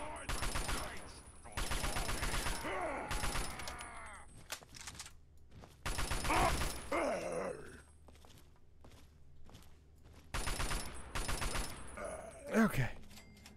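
Bursts of rapid gunfire from a weapon in Fallout 3, coming in several separate volleys spaced across the stretch, with a player talking between shots.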